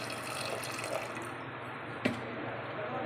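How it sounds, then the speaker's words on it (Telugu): Water pouring into a pressure cooker holding kidney beans for rajma curry, a steady close splashing fill that stops, followed by a single sharp clink of metal. "రాజ్మా మునిగేంత వరకు వాటర్ మనం వేసుకున్నాము"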